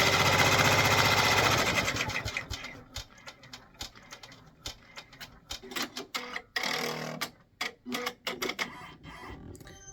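A Brother 6-needle embroidery machine stitching a shirt runs with a loud, fast rattle, then stops. Irregular clicks and mechanical taps follow as the machine is handled.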